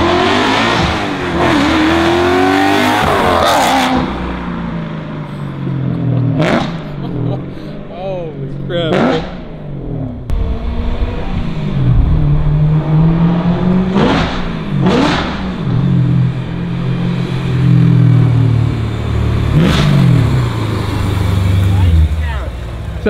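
A BMW E91 M3 fitted with a full Valvetronic exhaust system drones and revs loudly while driving, with repeated surges and gear changes heard from inside the car under excited talking.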